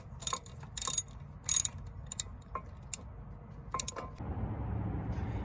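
A ratchet works on the front brake bolts of a 2006–2011 Ford Ranger, producing a few quick bursts of clicking separated by pauses, followed by a faint rumble toward the end.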